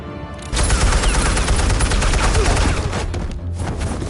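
Gunfire in the Batman Telltale game erupts as a loud, sustained burst of rapid automatic shots that starts abruptly and runs almost to the end, briefly thinning near the close.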